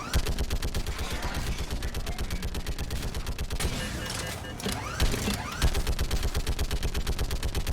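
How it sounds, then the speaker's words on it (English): Rapid turret gunfire in Mass Effect 3 pounds out in a steady, loud, fast stream of shots, breaking off briefly in the middle before the relentless automatic fire resumes. "One more opportunity to shoot a whole bunch of things with the turret."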